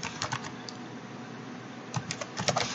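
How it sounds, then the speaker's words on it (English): Short bursts of computer keyboard typing as a formula is entered into a Google Sheets spreadsheet, quick clustered key clicks separated by a pause, close and fairly quiet, with no talk. "by simply typing in"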